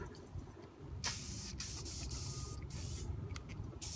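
Clear coat sprayed from an aerosol can onto a car's rust repair, heard as a steady close hiss that runs through the clip, with short bursts and brief pauses between passes.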